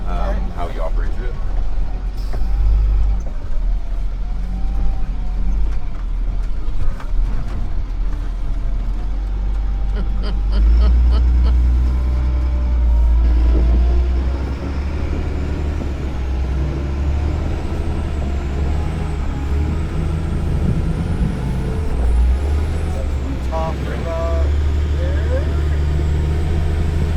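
Heavy 6x6 overland RV truck crawling down an obstacle in low gear, with a deep steady engine rumble, a few hissing air-brake releases, and people talking over it throughout.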